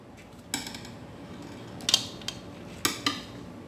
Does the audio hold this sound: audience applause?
no